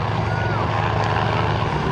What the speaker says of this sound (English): Being upside down in a helicopter, a modified BO-105 helicopter.